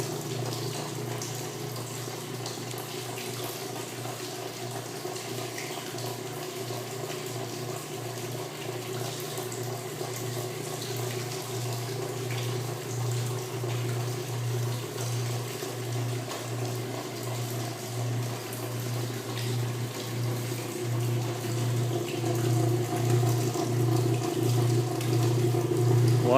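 A washing machine drains its wash water after a load run with a little too much soap, giving a steady watery rush over a low pump hum that holds for the whole stretch and grows slightly louder near the end.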